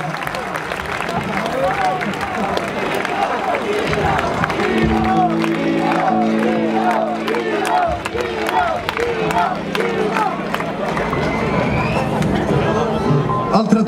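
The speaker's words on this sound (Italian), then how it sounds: "Fate un applauso a Gino." A live audience at an Italian comedy tour show applauds and cheers loudly, steady clapping with shouts running throughout, while a voice speaks over the crowd.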